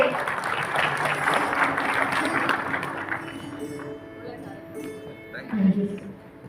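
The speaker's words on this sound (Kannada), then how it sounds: "ದೊಡ್ಡದಾದಂತಹ ಚಪ್ಪಾಳೆ" A crowd at a sugarcane farming seminar in Belagavi district applauds loudly for a few seconds before the clapping fades, and a voice speaks over the thinning applause.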